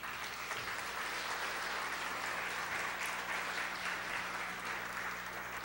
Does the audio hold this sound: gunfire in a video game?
no